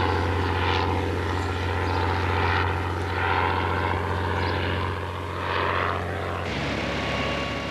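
Bristol Fighter biplane, a First World War two-seat fighter, droning steadily as its piston engine and propeller pass overhead, a loud continuous rumbling hum that swells and fades slightly, with no voices.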